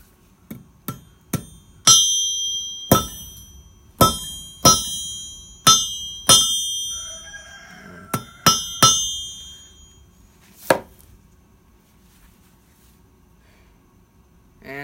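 Sharp ringing hammer blows on forged metal as a coat hook is flattened on its back side, about a dozen strikes in an uneven rhythm with bright metallic ring, close and loud, then quiet.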